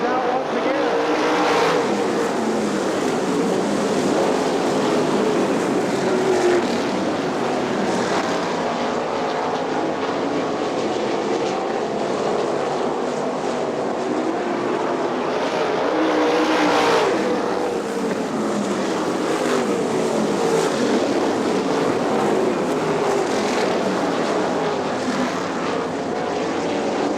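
A pack of 410 sprint race cars roars around Butler Motor Speedway in Quincy, Michigan after the green flag, engines droning loudly and continuously, swelling and fading as cars pass.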